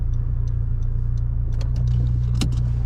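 A Honda Civic Si drives on a snowy road, its engine a steady low hum heard from inside the car, with a few faint ticks and a brief clunk near the end.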